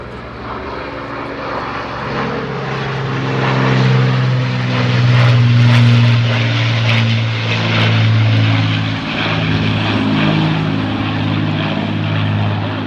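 An Avro Lancaster bomber's propeller engines drone loudly overhead at an air display, a sustained multi-engine hum that swells and fades slightly as the plane passes.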